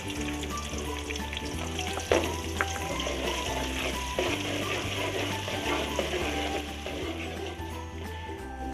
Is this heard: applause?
no